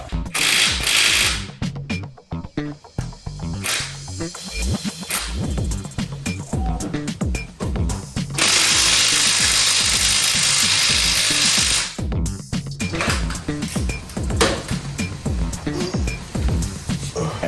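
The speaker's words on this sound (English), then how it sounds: "I can barely hear because of all the impact gun noises" An impact gun hammers on stubborn transmission bolts of an old Mazda Miata, loud bursts of rapid rattling separated by short pauses, with one long sustained run near the middle.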